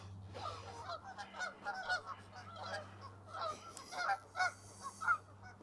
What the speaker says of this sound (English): there's always lots of birds down here